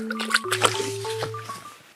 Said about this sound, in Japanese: じゃあ、川の水にぶち込みます